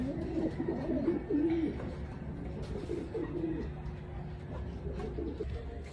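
Pigeons coo in a low, repeated rhythm at fairly close range for the first few seconds, then more faintly, over a steady outdoor background during a morning check.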